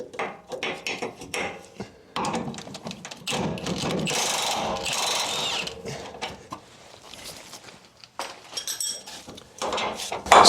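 An impact wrench with a 15 mm socket works a nut loose on a Ford F150 rear lift kit install, giving harsh rattling bursts, the longest in the middle, among clanks and ratcheting tool noises.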